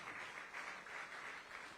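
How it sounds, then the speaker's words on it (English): An audience applauds young achievers at a Tamil Nadu Governor's public event, giving a brief, faint burst of continuous clapping that sounds distant in the hall. "A good round of applause for all the young achievers."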